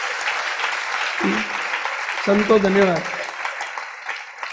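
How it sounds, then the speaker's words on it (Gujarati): Steady, dense applause from an audience at a Hindu religious discourse with monks present fills the clip, with a voice speaking briefly over the clapping. "તાળી તો પાડો, રાજીપો તો આપો,"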